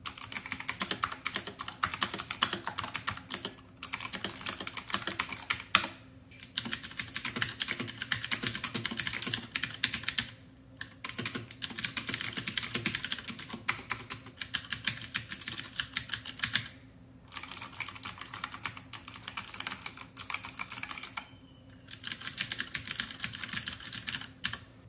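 Steady, dense typing on a Razer Huntsman Elite mechanical keyboard, with rapid close-up key clacks running continuously and broken by a few brief pauses, no voices.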